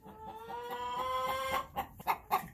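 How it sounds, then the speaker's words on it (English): Three hens in a nest box laying eggs give a drawn-out tonal cackle followed by several short clucks, close and clear, with no talking. "So I have 3 hens in here laying their eggs, and I've got one standing there waiting her turn."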